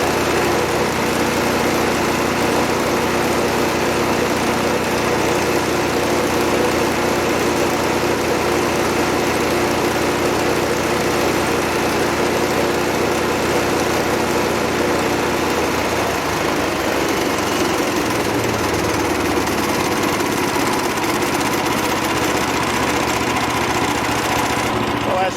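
A DC 1260 machine fitted with new belts runs at full RPM, a loud, steady mechanical drone with constant hum that persists throughout, shifting slightly in tone toward the end.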